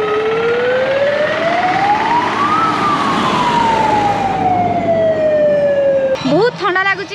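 A security guard's siren sounding at a park in the evening near the Maa Metakani temple in Sonepur, a loud wailing tone sweeping up then slowly down, ending in short rapid warbles.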